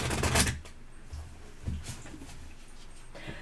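Tarot cards shuffled by hand for a reading, a brisk riffle at the start and then soft intermittent card slaps and rustles, close and fairly quiet.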